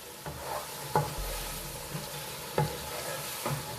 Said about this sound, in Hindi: थोड़ा सा और इसको भून लेंगे